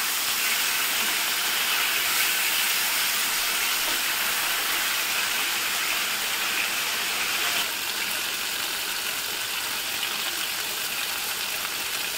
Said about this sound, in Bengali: মাছটা প্রায় ভাজা হয়ে এসছে।